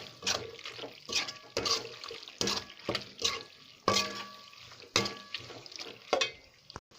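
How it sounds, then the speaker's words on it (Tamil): Pasta sauce bubbling in a pan on the stove, with loud bursts of boiling and spattering coming and going in an uneven rhythm, close up, with no talking. "நல்லா கொதிக்கட்டும்."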